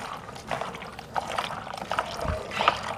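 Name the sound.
water poured over salted potatoes to wash them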